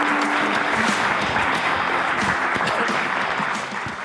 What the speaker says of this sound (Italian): un applauso, complimenti ancora da me